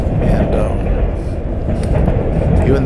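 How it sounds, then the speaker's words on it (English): A freight train of auto haulers rolls past at Callahan Junction, heading to Jacksonville from Folkestone, a steady loud rumble and rattle close by with a person talking over it throughout. "This train is going on down to Jacksonville, coming from Folkestone"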